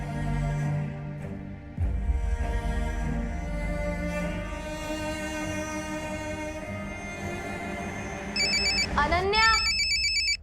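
A voice talks for several seconds, then an electronic phone ringtone starts up near the end, bright repeating tones loud and close.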